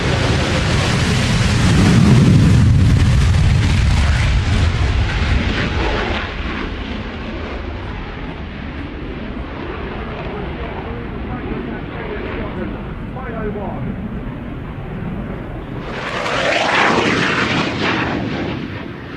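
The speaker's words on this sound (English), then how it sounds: "F-35 Lightning, that's coming up for you right now." An F-35 Lightning fighter jet at an airshow roars loudly and continuously, a broad rumbling jet noise that peaks early, settles into a steady drone, then swells again near the end.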